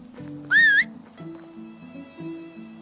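Horse whinny in the video game Medieval Dynasty: one short, rising high-pitched neigh, close and loud, lasting about a third of a second over a low hum of game ambience.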